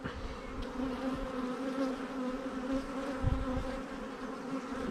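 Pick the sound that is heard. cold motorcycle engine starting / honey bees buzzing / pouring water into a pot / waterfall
honey bees buzzing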